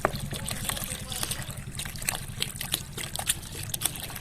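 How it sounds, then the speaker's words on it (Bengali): Soaked cow dung water, left to rot for ten to fifteen days, is poured to thin it for a homemade liquid plant fertilizer; a continuous close trickle and splash of liquid runs throughout. "আমি একটু পাতলা করে নিচ্ছি গোবর ভিজানো জলটা"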